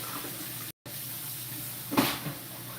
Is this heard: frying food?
no